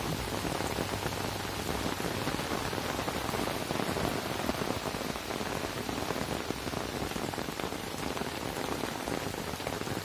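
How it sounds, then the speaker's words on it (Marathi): Heavy rain falls outdoors during a fishing trip with nets, a steady, dense hiss of drops beating on surfaces that stays loud and unbroken throughout, with no voices. "भरपूर असा पाऊस आलेला आहे."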